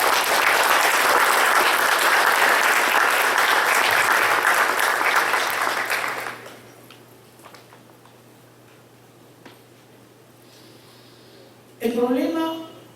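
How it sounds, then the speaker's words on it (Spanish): Loud, dense congregation applause fills a church for about six seconds, then cuts off into near silence before a voice speaks briefly at the end. "Vamos a dar un fuerte aplauso a nuestro Dios en esta mañana"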